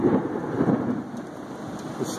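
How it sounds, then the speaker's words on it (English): Thunder rumbles low during a severe Florida storm while heavy rain hisses steadily, the deep rolling sound strongest at the start and easing off. "It's still thundering out there"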